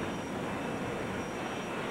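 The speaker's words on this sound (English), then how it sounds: "The crowd absolutely loves these jet cars." A jet-powered drag racing car roars at a drag strip during a 1998 Chevy show at New England Dragway, a loud, steady broadband engine rush with a thin high whine on top and no pauses.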